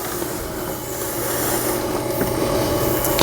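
Continuous rasping scrape of a trimming tool cutting a foot ring into a leather-hard clay bowl turning on a potter's wheel, steady and close throughout with a louder bump at the very end, no talking.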